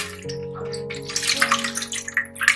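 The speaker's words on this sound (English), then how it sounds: "Here I am just keeping the skewers soaked properly." Water runs and splashes steadily as kebab skewers are soaked while preparing mutton seekh kebabs, a continuous close wash that grows busier toward the end over a steady tonal background.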